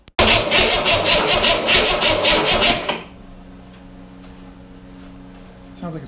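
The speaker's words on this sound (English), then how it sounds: "It sounds like it's turning over better." Refurbished Corvair engine cranking over loudly for about three seconds with a rhythmic churning beat, then cutting off to a quiet low hum and faint background noise.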